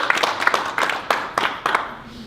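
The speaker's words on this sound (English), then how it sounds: "can we give her a round of applause?" Audience applause sounds thin and sparse, just a handful of distinct claps spaced across about two seconds, close and fairly loud.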